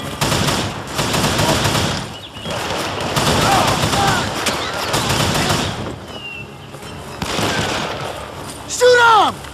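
Gunfire in Call of Juarez: The Cartel, with repeated bursts of shots over several seconds, loud and close, while voices call out in the middle of the fighting.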